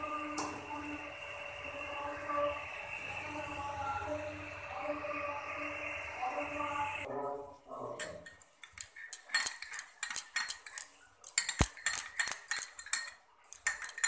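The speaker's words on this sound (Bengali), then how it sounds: "দিয়ে ভালো করে মশলাটা আমি কষে নেব এভাবে" Masala for a Bengali katla fish kaliya is stirred and fried in a pan, first a steady close sizzle, then a run of sharp, irregular metal spatula clinks and scrapes against the pan.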